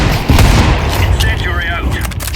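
Rapid gunfire and a grenade blast in the video game CS:GO, loud close bursts of shots with a booming hit early on, dense and chaotic throughout.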